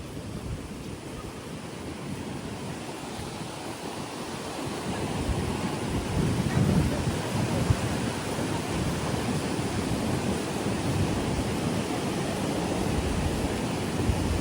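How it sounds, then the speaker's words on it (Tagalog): Strong wind buffets the microphone as surf roars along a Boracay beach during a storm, a dense, continuous rushing that grows louder midway and holds steady, with no voices. "So malakas yung hangin mga kaisla."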